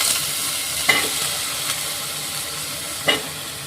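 Raw banana and potato sizzle steadily in hot oil in a pan, a continuous close frying hiss with a couple of brief louder crackles or stirring bumps.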